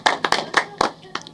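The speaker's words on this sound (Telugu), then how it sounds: "ఒకసారి గట్టిగా చప్పట్లు" A small group clapping loudly at a collection showcase event, a quick burst of about six sharp claps with uneven spacing, close by.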